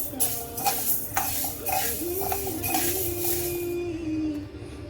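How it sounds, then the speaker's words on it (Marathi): Moong lentils being dry roasted in a pan, with steady rustling and scraping as they are stirred and a few light clinks from the utensil, close and moderately loud. "मूग पण छान लालसर होईपर्यंत भाजूया."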